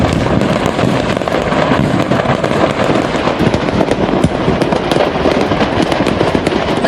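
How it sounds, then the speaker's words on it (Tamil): Fireworks explode in a dense, continuous barrage of crackling bangs and pops at a Sivakasi firecracker warehouse, loud and unbroken throughout with no voices. "சிவகாசி பட்டாசு ஆலையில் பயங்கர வெடிவிபத்து ஏற்பட்டது"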